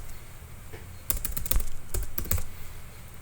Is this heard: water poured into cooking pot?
no